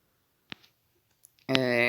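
A computer mouse clicks a couple of times, faint, sharp and isolated in near silence, followed by a voice starting to speak.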